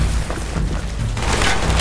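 A SPAS shotgun blast lands within the dense, booming din of a Call of Duty: Black Ops firefight, a low, continuous rumble of impacts and explosions that fills the stretch without any clear single shot standing apart.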